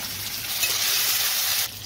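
Black cumin, chopped onion and green chilli hitting a hot kadai: a loud, bright, hissing sizzle sustained for nearly two seconds, dropping off abruptly at the end, with no voices.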